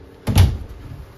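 A rear entry door on a 2022 Forest River Wildwood 32BHDS travel trailer swings and shuts in a single close, fairly loud thud with a brief rattle that quickly fades.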